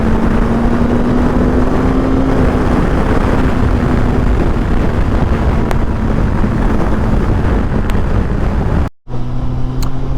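A Suzuki GSX-S1000GT motorcycle is ridden at speed. Its steady engine drone sits under heavy, roaring wind buffeting, with a short break near the end.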